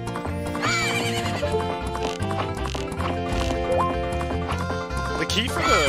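A horse in the video game Majora's Mask neighs and whinnies, with hooves clip-clopping over loud game music that plays continuously; a voice talks over parts of it.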